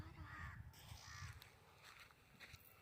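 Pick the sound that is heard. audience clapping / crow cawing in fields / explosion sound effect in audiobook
crow cawing in fields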